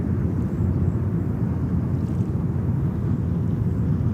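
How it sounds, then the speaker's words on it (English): A Royal Air Maroc Boeing 787 Dreamliner at New York's JFK airport gives off a steady, low jet roar that holds at an even loudness throughout, with no voices heard. "Royal Air Maroc is coming up with a Dreamliner"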